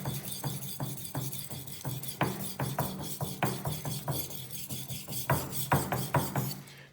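A Shirogami steel knife is drawn across a natural Japanese whetstone in slurry, giving close, rhythmic scraping strokes with regular sharp onsets, about two per second, and no voice.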